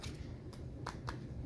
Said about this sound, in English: I'm just going to shuffle these two decks a little bit